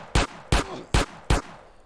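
Four sharp gunshots fired at a steady, unhurried pace, each a loud close crack with a short tail, from the video game GTA: Lviv.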